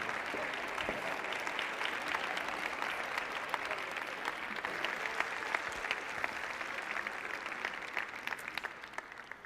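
Steady audience applause goes on for several seconds, with many hands clapping at an even level and individual sharp claps standing out. The sound is moderately loud and fills the room.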